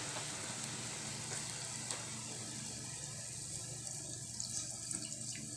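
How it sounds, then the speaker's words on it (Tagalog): Coconut milk pours into a simmering vegetable stew, a steady faint liquid rush with light bubbling throughout, no talking. "Ilagay na natin yung kakanggata."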